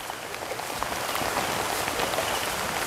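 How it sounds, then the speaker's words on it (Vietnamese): Heavy rain falls on a water-filled ditch. It makes a steady, dense patter of drops that is close and even throughout, with no voices. "Mưa tới rồi em ơi."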